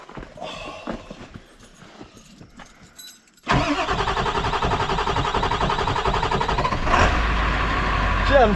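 A truck that has sat unstarted for a while, freshly fitted with a new fuse, fires up loudly after a few seconds of quiet clicks and handling, then runs at a rough, steady roar close by.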